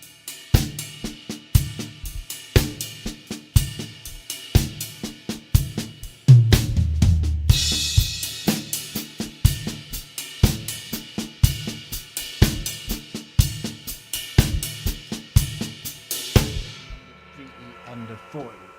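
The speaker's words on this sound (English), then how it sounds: "So this anchors the rhythm a bit more," Funk drum groove on a kit with the hi-hat on the main beats, crisp hi-hat and snare strokes over kick, a cymbal crash midway and faster hi-hat toward the end before ringing out, close and loud.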